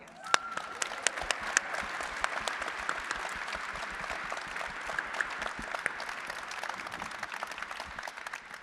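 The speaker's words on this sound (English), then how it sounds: "I hope you can all give them a big round of applause" Steady, fairly distant applause from an audience at a DjangoCon US conference panel, with many individual claps forming a continuous patter that lasts throughout.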